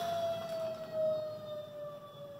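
A distant siren wails steadily with a slowly falling tone, heard over faint background noise.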